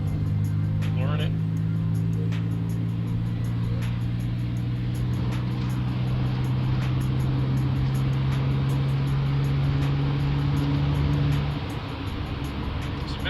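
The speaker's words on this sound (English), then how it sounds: "In this steeper bit, I'll do it in 6th. Start at 50." A Honda CR-V (RD1) with a J2K engine swap and AWD, accelerating at full throttle in 6th gear up a steep stretch from about 50, giving a steady loud engine drone with rising harmonics throughout.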